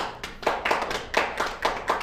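A clapping machine in a television studio produces applause, a rapid series of broad, bursty clap bursts at a quick uneven rhythm, fairly close and moderately loud with no voices over it.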